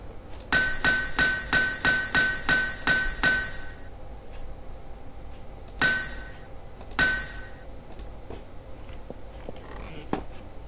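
A hammer strikes repeatedly on an anvil while repairing a pickaxe in the block-building game Minetest. Eight quick, evenly spaced metallic clanks ring out close and loud, followed after a pause by two more single strikes.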